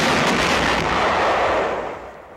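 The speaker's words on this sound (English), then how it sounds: "Firing on enemy barges in the Rhine before Dusseldorf." Sustained heavy gunfire aimed at enemy barges on the Rhine near Dusseldorf during World War II, a loud continuous rumble of firing with overlapping blasts that fades slightly toward the end.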